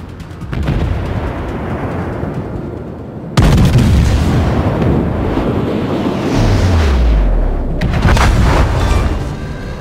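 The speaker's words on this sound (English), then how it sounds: "All stations, concentrate fire on the target." Heavy battleship guns from the naval game World of Warships, with the French battleship Jean Bart firing in loud, close, booming salvos. Deep rumbling blasts are followed by descending shell whistles and lingering roar.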